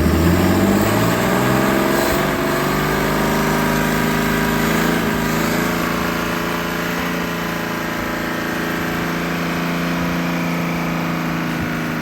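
A rebuilt 1956 Graymarine 100 HP Continental F226 marine engine runs at a slow idle, a loud, steady low rumble with even firing and a constant mechanical whine, heard up close for the whole stretch without any voices.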